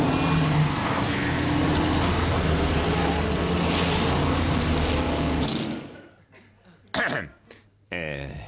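Vehicles of the Dakar rally caravan roar past in a loud, sustained rumble that cuts off abruptly, followed by a quiet gap and two short, sharp bursts of noise.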